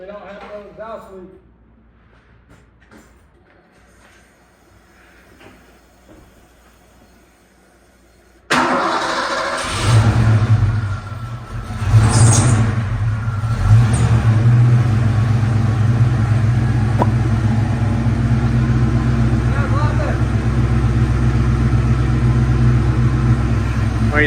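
A Ford Mustang Foxbody engine cranks and fires at about 8.5 seconds, then runs loud and steady with a brief surge near 12 seconds. Before it starts there are only faint movements, and a voice is heard briefly near the start.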